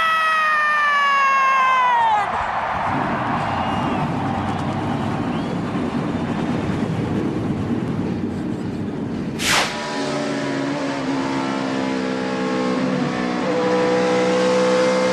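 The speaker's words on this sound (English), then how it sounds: "Gentlemen, start your engine!" NASCAR stock car engines at the 2009 Atlanta Kobalt Tools 500 starting up and revving, a loud dense roar of many engines with a rising harmonic whine after a brief burst, continuous and close.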